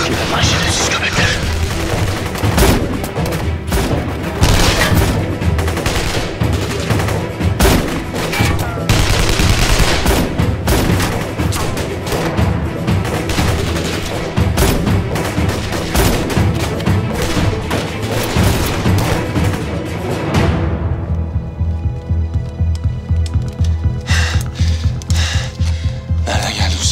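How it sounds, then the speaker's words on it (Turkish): Heavy bursts of gunfire, rapid automatic volleys and sharp single shots crackling for a long stretch, loud and close, then tapering to scattered reports. "Nereden geldi bu silah sesleri?"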